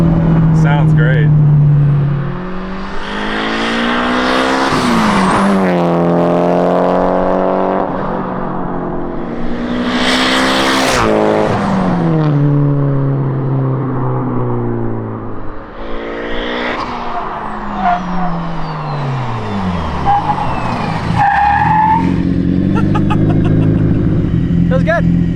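Mitsubishi Lancer Evo wagon engine heard from inside while driving, loud steady drone rising and falling in pitch through gear changes, with people talking over it.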